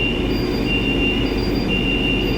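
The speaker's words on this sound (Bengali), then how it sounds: "এই ট্রেনটা পাস করছে" A metro train passes on the new Behala–Taratala to Joka line, a constant loud rumble overlaid with thin, sustained high wheel squeals that fade in and out, no talking.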